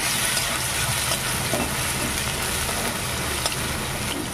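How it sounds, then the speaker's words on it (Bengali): Crushed garlic fries in hot oil in a pan with dried red chillies, giving a steady, even sizzle with occasional light pops, close and without talk. "একটু রসুনটাকে ভাজবো প্রথমে।"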